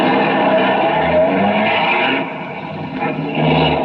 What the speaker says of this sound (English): half the Dragnet crew pulled out of the police garage and scattered over the city to their places